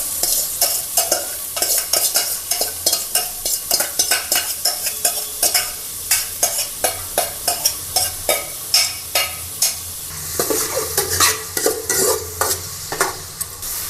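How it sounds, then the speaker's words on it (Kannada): Onions and green chillies fry with popping mustard seeds in hot oil, a close, steady sizzle broken by a regular rhythm of loud stirring scrapes throughout, with no voices. "ಈರುಳ್ಳಿನೂ ಜಾಸ್ತಿ ಫ್ರೈ ಆಗಬಾರ್ದು."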